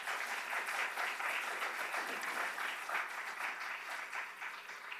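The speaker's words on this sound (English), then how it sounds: "Could I ask a round of applause for these fellows?" An audience applauds speakers at a journalism institute, a steady, dense wash of clapping sustained for several seconds without pause, fairly even in loudness before easing slightly at the end.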